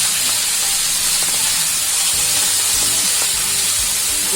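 Cumin, garlic, asafoetida and coriander greens sizzle steadily in hot oil for fenugreek-leaf curry, a dense continuous frying hiss with faint stirring clinks underneath, close and alone.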